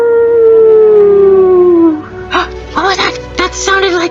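A human voice imitates a wolf, giving one long wavering howl that slides slowly downward for about two seconds. Spoken storytelling follows right after it.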